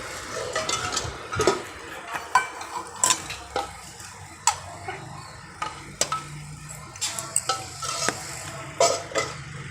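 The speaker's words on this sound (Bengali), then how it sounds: "দেখো দিয়ে লুচি ভাজা হচ্ছে এখন" Luchi frying in oil in a karahi, a soft sizzle under repeated sharp clinks and scrapes of a utensil against the pan in an uneven rhythm.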